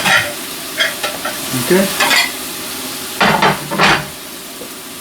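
Steaks searing and sizzling in a hot pan, a steady loud hiss with stirring and scraping bursts, and a person briefly speaks once.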